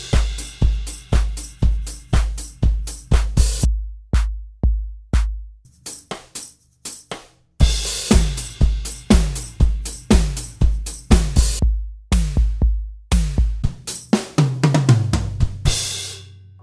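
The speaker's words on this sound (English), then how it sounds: "I'm going to show you how to set up the Roland RT-30 triggers with the SPD-SX so that you can" Acoustic-style drum hits triggered by Roland RT-30 triggers through an SPD-SX sample pad, punchy kick and snare strikes in a steady groove with brief pauses, loud and close with no talk.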